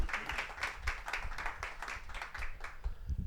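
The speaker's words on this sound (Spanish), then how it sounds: "Un aplauso al Señor." A church congregation claps in quick, uneven rhythm, many hands striking together at moderate volume for a few seconds.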